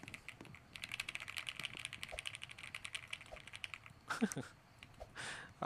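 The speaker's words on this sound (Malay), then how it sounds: "Dengar ke bunyi keyboard tu?" Rapid clicking of a computer keyboard being typed on, a dense run of light taps with short pauses, quiet and close, with a brief voice and a few louder knocks partway through.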